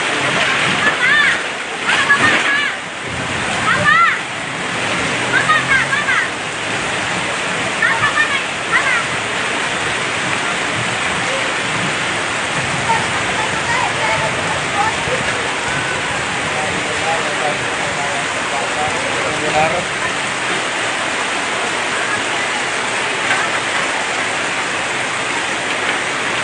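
Heavy rain pours down steadily in a residential area of Makassar, a dense, loud, continuous hiss and splatter, with people talking faintly beneath it.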